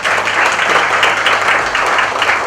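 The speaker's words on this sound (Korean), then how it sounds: "그럼 큰 박수로 인준을 주십시오." Brisk, loud applause from an audience approving appointments at an inauguration ceremony for an advisory council on Korean unification, a dense continuous clapping close by.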